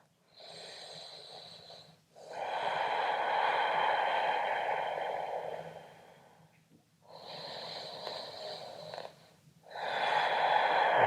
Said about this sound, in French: Prends 3 belles respirations où que tu sois.